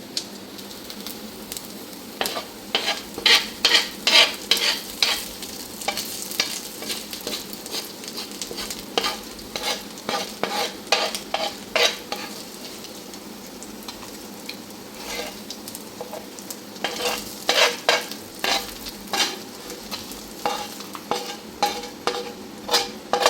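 Sardine roe sizzles in a pan while a utensil stirs it, giving repeated scraping strokes in uneven bursts over a steady soft frying hiss, close and without talk.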